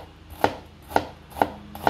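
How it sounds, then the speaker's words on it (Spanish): A knife chops onion on a cutting board while a dressing for a legume stew is prepared, four crisp, evenly spaced thuds sounding close and loud with no talk. "Picando cebolla."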